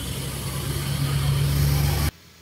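A truck engine with a faulty turbo idles in a steady low rumble that swells slightly louder before cutting off abruptly near the end, close and alone without talk.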